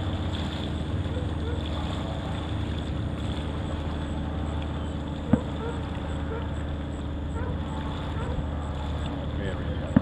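A boat engine hums steadily at moderate loudness while its throttle is worked, with wind and water noise throughout and a couple of sharp taps; people talk over it.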